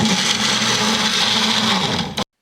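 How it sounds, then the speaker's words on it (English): A kitchen blender whirs loud and close in a scene from the film Sound of Metal, a dense steady motor grind that runs unbroken for about two seconds before cutting off abruptly into silence. "he's using the blender and it's making a blender sound"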